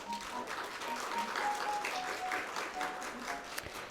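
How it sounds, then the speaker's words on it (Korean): At a hospital pharmacists' conference held in an association hall auditorium, an audience applauds to welcome the chairman. The clapping is moderate and continuous, with a faint steady tone running underneath and a sharper knock near the end. "김대엽 회장님을 박수로 맞이해 주시기 바랍니다."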